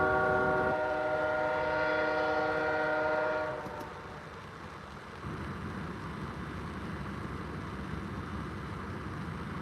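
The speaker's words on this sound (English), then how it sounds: "Oil cars, tank cars, here they come. Coming down and around." A winter CPKC oil train of tank cars rolls past in Ottumwa, Iowa. A loud horn blast opens, then the steady, near rumble and rattle of the cars continues alone.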